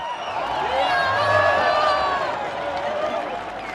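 A huge crowd cheers and shouts at the Berlin Wall in 1989, a dense, sustained roar of many voices with whistles and whoops, loud and continuous throughout.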